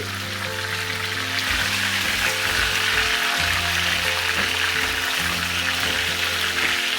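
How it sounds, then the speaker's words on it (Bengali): Chicken pieces frying in oil for chicken roast, a loud continuous sizzle and crackle close up, with a low hum running underneath. "চিকেনের পিসগুলোকে আমি উল্টিয়ে ভেজে নিচ্ছি।"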